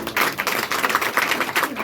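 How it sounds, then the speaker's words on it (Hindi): Audience applause at a meeting, a steady wash of many hands clapping at close range for nearly two seconds, dense and even with small swells throughout. "एक बार ताली हम सबके लिए"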